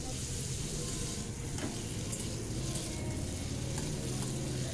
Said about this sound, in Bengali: আমি এবার আলুগুলোও ভেজে নিচ্ছি